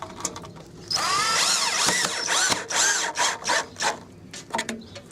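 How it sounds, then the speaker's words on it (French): A power drill bores holes along a pergola wall profile, with a loud whining run that rises and dips in pitch as it bites in, then a series of shorter bursts and stops near the end. "Et on fait les trous comme ça sur tout le long de la muralière."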